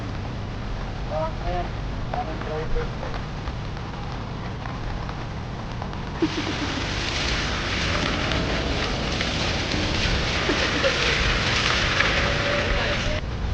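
Steady rain patters and hisses over a surface at a golf tournament, growing louder and denser partway through, with voices talking faintly underneath.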